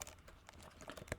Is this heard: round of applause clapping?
no